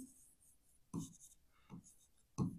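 Chalk or marker strokes on a board during a calculus lesson, three short scratchy bursts spaced about a second apart, fairly close and alone without talk.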